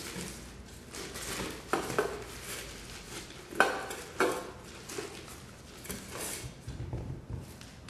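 Brownie mixture with added brown sugar being stirred in a bowl, a utensil scraping and clinking against the sides in uneven bursts with occasional sharper knocks, close and fairly quiet.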